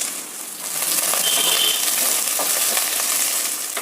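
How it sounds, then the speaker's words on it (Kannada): Onions and vegetables such as kohlrabi, carrot and beans fry in hot oil for biryani, giving a steady, loud, close sizzling hiss that swells after the first half second and holds without any voices. "ಡೈರೆಕ್ಟಾಗಿ ಈರುಳ್ಳಿ ಹಾಕ್ತೀನಿ. ತರಕಾರಿ ಈರುಳ್ಳಿ ಅಷ್ಟೇ ಹಾಕಿ ಫ್ರೈ ಮಾಡೋದು."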